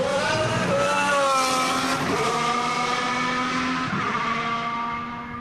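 A 2014 Red Bull Formula 1 car accelerates during pre-season testing at Jerez, its high-pitched engine climbing through rising tones with shifts between gears, loud and close, then fading slightly at the end.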